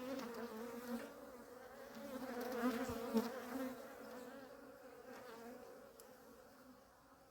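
Honeybees at a hive being checked before winter make a steady, close buzzing drone that swells slightly in the middle and then eases, with no talking.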